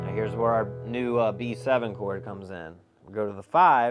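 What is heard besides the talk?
None of the usual background noises is heard.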